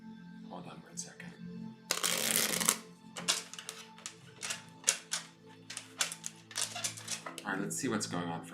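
Tarot cards being shuffled, with a loud riffling burst and then a run of soft slaps and flicks, while a voice hums and speaks faintly underneath.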